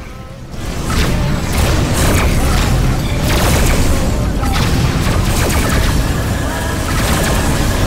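Loud, dense space combat from the game Rebel Galaxy: rolling explosions and missile blasts pile up continuously, with a synthetic ship voice calling out warnings over the din.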